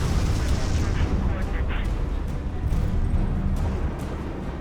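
Rocket explosion in the video game Prototype 2, a loud, sustained, rumbling blast with crackling debris that fills the whole stretch, with a voice faintly audible beneath it.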